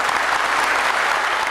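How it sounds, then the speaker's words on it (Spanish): Steady, dense applause from an audience at a municipal government report ceremony, continuous and fairly loud throughout with no voices on top. "En este acto, los aplausos y felicitaciones se hicieron presentes."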